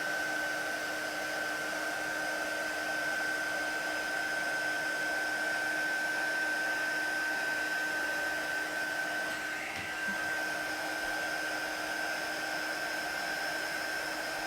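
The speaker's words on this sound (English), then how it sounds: "I'm just holding that heat gun still, and as soon as I see that powder start to melt and change, I'm just moving the heat gun over the image" A heat gun blows steadily to melt embossing powder for cardmaking, giving a constant close whooshing fan hum with a faint high whine that runs throughout.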